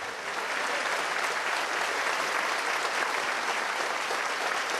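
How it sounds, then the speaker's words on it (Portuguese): Congregation applauding during a church service in Curitiba, a thick, continuous wash of many hands clapping at steady loudness throughout, with almost no speech over it. "Vamos aplaudir este nome."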